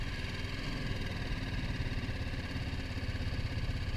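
A motorcycle engine idles in neutral, a steady, loud, even rumble with a fast mechanical clatter close up and no talking.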